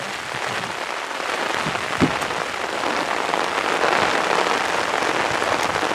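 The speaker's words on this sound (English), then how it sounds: "It is pouring down the rain," Heavy rain pours down steadily, a dense continuous hiss of drops drumming on surfaces, with no voices.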